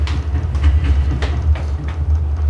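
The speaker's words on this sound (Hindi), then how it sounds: "बंबई की लोकल ट्रेन है।" A Mumbai local train runs with a loud, continuous low rumble and repeated rattling clacks of the carriages, steady and close with no voices.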